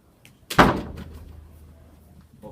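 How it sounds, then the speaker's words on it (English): A classroom door closes with a single solid thud, fairly close, followed by a brief fading rattle and quiet room tone. "close that door"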